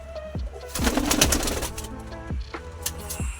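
Pigeons coo in low, soft murmurs, with a brief flutter of wings in the middle; the birds sound close.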